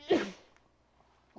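A single loud sneeze bursts out near the start during a Minecraft survival gameplay session, followed by a quiet tail and a faint breath or rustle near the end.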